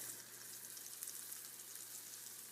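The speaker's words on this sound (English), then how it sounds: "when you hit the pan like that, you want it to go ahead and start frying and sizzling" Chicken coated in flour fries in a hot pan with a steady, even sizzle, moderately faint and continuous throughout with no voices.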